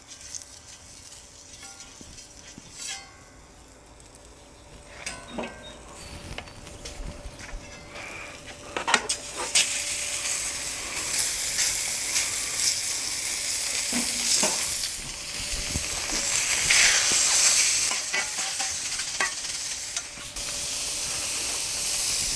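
Pork hitting canola oil on a plancha griddle, a sizzle that builds into a loud continuous hiss, with scattered scraping and clanks from a spatula, no voices.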